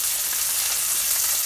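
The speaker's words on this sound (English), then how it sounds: "For your steak to be frying properly, it should sound something like this." A ribeye steak fries in hot oil in a pan, a dense, loud, continuous sizzle and crackle held steady throughout with no voices.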